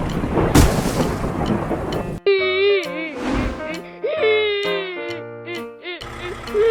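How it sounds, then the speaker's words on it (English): Deep thunder rumbles under rain at first, then the scene gives way to wailing, tonal music-like sounds with shifting pitches. "Dark clouds are gathering around, lightning in"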